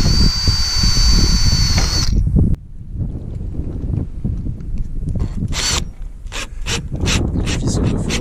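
An electric drill fitted with a 3.5 mm bit whines loudly and steadily for about two seconds, then stops, leaving softer scraping and rustling handling noises during a solar installation.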